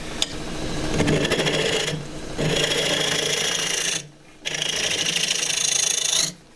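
A woodturning tool is dragged across a wooden tray spinning on a lathe, giving three loud, sustained scraping and rasping passes separated by brief pauses, close and without talk.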